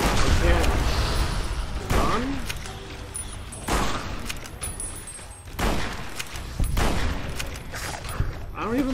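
Gunshots from Fallout New Vegas, modded hardcore play: a series of loud, sharp broadband cracks every second or two over a steady noisy game background, with a voice faintly present in between.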